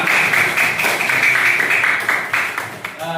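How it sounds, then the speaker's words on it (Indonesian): A school class claps for a few seconds, a brisk, uneven patter of hands in a room that fades toward the end. "tepuk tangan untuk kalian semuanya"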